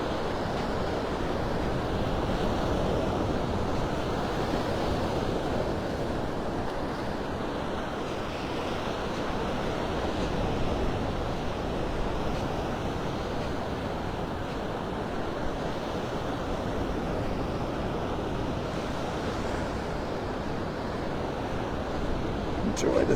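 Steady roar of ocean surf on Vanderbilt Beach in North Naples, Florida, with continuous wash and wind noise, no distinct breaks, filling the whole stretch at an even level.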